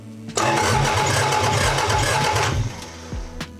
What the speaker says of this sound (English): I'm gonna ask my assistant to turn the key or the ignition